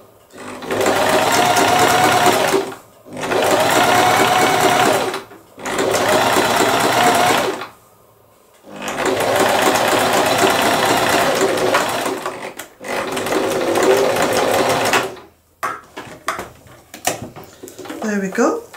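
A sewing machine stitching a curtain runs in five steady bursts of a few seconds each, separated by short pauses, followed by some faint clicks and handling noises.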